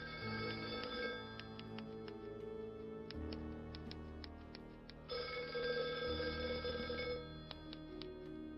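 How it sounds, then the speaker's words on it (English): A telephone rings in the video game NoseBound, with repeated bell trills in steady bursts over a continuous tonal game music backdrop, clear and fairly loud throughout. "Suddenly the phone rang, an unexpected call at an unexpected moment."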